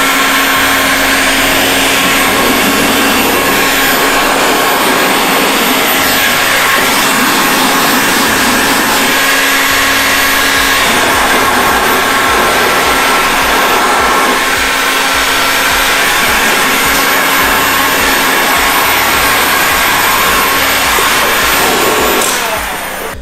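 A heat gun warms paint protection film around the edges of a car bonnet, producing a loud, constant blowing roar that holds for over twenty seconds with slight shifts in tone.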